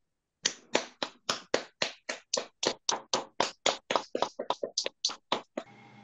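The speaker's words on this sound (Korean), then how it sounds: "오늘 여러분 귀하신 시간을 내어주신 김재성 교수님께 큰 박수로 환영해 주시기 바랍니다" Applause welcomes a professor before a Buddhist lecture: about twenty crisp, evenly spaced claps in a steady unison rhythm, fairly close, then they stop and the room goes quiet.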